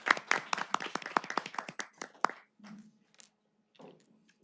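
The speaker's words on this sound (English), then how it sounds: "We give you a big round of applause." A small group claps at a board meeting, with a burst of sharp, separate hand claps that thins out and fades to near silence, followed by a faint low hum and a brief murmur.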